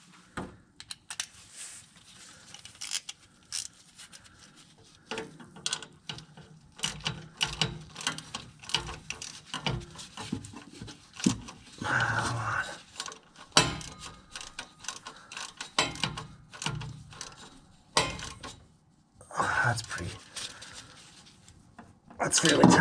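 Bolts being tightened on a BDE transmission mount for a 1989-1996 Nissan 300ZX, with a steady run of ratchet clicks and metallic rubbing in short bursts, close up and fairly loud, with someone talking at times.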